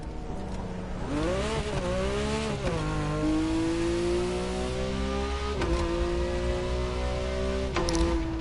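A sports car engine in The Crew Motorfest video game revs up and down repeatedly, climbing pitch with each gear, loud and close, with no talking.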